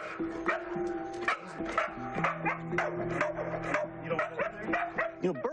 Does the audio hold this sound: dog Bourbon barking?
yes